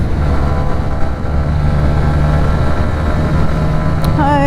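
A Honda CB125R motorcycle's engine drones steadily on the move, a continuous hum with wind noise, and a brief whining rise near the end.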